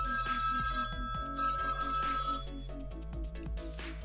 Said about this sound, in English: Hold on, it's my phone.